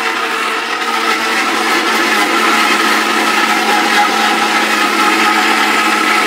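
A kitchen blender runs with water inside, a loud, steady whirring roar that holds evenly throughout without pauses.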